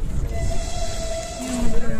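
Inside a passenger train carriage on the 16-hour Smolensk to St. Petersburg journey, a steady low rumble of the moving car runs throughout, with a faint sustained whistle-like tone in the middle and a brief tonal note near the end.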